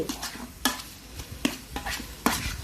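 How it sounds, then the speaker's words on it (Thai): Chicken sizzles in leftover hot oil in a wok-style pan as a utensil scrapes and clacks against it in repeated strokes, roughly every second, close up. "เอาไก่ลงไปคั่วกับน้ำมันที่เหลือที่เราพักเอาไว้"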